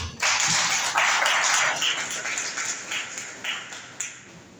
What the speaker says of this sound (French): je vous demande de vous applaudir très fort